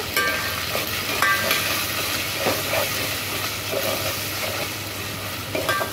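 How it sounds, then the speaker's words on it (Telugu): Ginger garlic paste with turmeric frying in a pan, giving a steady, fairly loud hiss with a few faint utensil scrapes over about six seconds. "అల్లం వెల్లుల్లి పేస్ట్ వేసుకొని పచ్చివాసన పోయే వరకు ఫ్రై చేసుకున్నాను."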